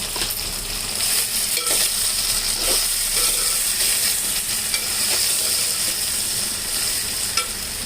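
Sweet potato pieces fry in hot oil with chili powder, a dense steady sizzle broken by occasional scraping stirs from a spoon in the pan. The sound is close and continuous.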